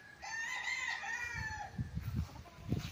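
A rooster crows once in a long, clear wavering call from farm chicken coops on a rural lot, followed by a few low clucks and scratchy thumps nearby.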